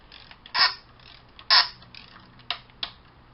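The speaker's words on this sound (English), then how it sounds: "I would get a torque wrench and torque it down." A torque wrench tightens a plastic oil filter housing on a 2014 Dodge Avenger, giving a few short, close mechanical clicks and creaks: two stronger ones, then two lighter ones, with quiet between them.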